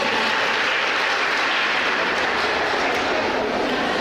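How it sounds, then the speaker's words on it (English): An audience claps for a student at a school speech event, a dense, steady wash of applause that fills the whole stretch without a break. "He's a great person, so we clap for him."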